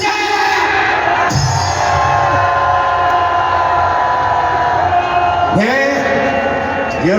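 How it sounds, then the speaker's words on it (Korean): Large crowd at an outdoor civic rally shouting a loud sustained cheer of gratitude, dense roaring voices throughout, with a rumbling passing sound and a sharp burst near the end. "감사의 함성 시작!"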